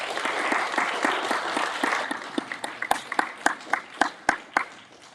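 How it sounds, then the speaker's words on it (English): An audience at a debate on whether the Christian God exists applauds the participants: dense clapping at first, thinning into a handful of sharp, separate claps as it dies away. "let us give a round of applause for our participants tonight, Mr. Eric Murphy and Mr. Dean Meadows."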